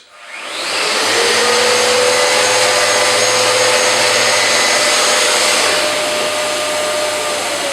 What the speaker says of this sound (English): just get your sander and with something like a 120 grit, just very gently sand the surface over that edge